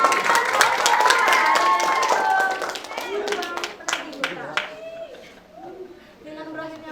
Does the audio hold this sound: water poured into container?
no